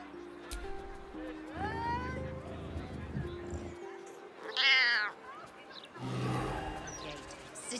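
A cat in Baldur's Gate 3 gives a short, clear meow near the middle, set among game sounds and other noises, with talking around it.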